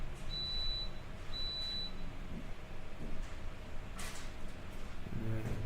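Coffee maker signalling it is done: two short steady high beeps near the start, clear over a constant low room hum, followed by faint handling noises.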